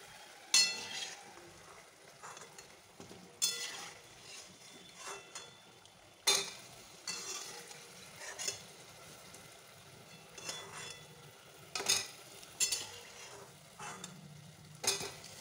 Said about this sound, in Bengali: একটা গরম রস আছে, উল্টে পাল্টে দিচ্ছি